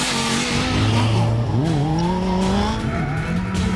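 A supercharged Kawasaki Ninja H2 motorcycle with an under-1000 cc engine accelerates hard, its loud, close engine note rising and dipping through the gears with a steady roar throughout.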